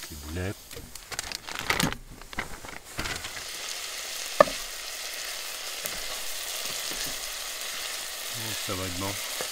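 Meatballs and garlic crackle and sizzle in a little oil, a steady hiss running beneath a person talking at the start and end, with one sharp utensil tap midway.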